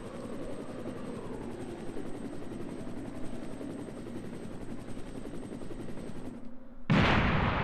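A helicopter arrives in the Resident Evil 1 Director's Cut game, its dense rotor chop roaring steadily for several seconds with gunfire-like crackle mixed in, ending in a sudden loud burst.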